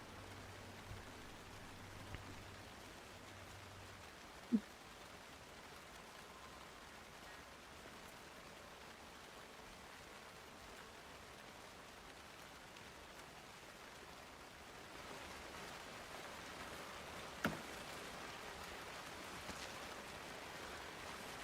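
Quiet, continuous rainfall hisses in Alan Wake 2 over a long stretch, with a couple of brief, sharp knocks and a slight swell in the wash toward the end.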